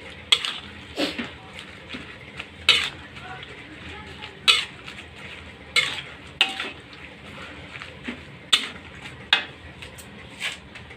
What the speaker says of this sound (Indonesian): Sekarang kita masak genjernya, tumis genjer